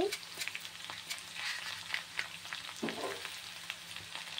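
Tamarind pieces, urad dal and a pinch of turmeric crackle in hot oil for a ridge gourd chutney, a steady soft sizzle with scattered pops and a brief scrape of stirring near the end.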